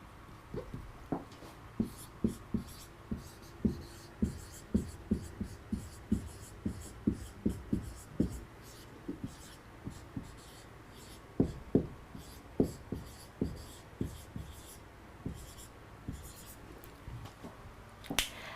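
Marker or chalk writing on a board during an English vocabulary lesson: a long run of short, crisp taps and scratchy strokes in irregular rhythm, close and fairly quiet, with no talking over it.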